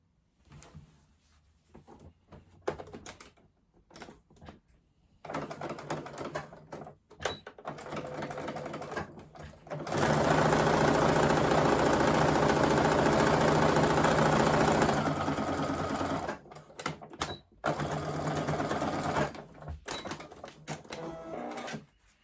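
A sewing machine runs a plain seam through satin fabric in bursts: short starts and stops, then a long steady whirring run, then more brief stitching spurts, close and with no talking.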